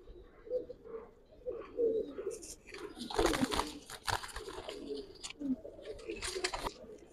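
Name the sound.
Giribaz pigeons cooing in a pigeon shop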